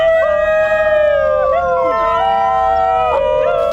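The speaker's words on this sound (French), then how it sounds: "C'est le chien chanteur de Nouvelle-Guinée, un rare chien sauvage, connu pour son chant inhabituel." A rare New Guinea singing dog in a zoo enclosure gives a loud, close, tonal howl, a sustained melodic trill whose pitch slides and wavers across several seconds.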